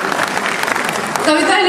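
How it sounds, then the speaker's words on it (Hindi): Audience clapping at a cancer survivors day event in a hall, a dense steady patter of many hands that swells slightly louder toward the end, with no voices over it. "हाँ तालियां बजा दीजिए ना, अच्छा लगता है, बजा दीजिए"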